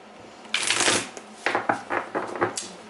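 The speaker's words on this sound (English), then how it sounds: "you guys know I always do shuffle on camera." Tarot cards being shuffled by hand in several riffling bursts, crisp papery flutters coming close and fairly loud with short pauses between them.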